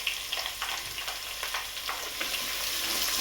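Onions frying in a pan for chicken sukka, a steady close sizzle with soft stirring scrapes running the whole time and no voices.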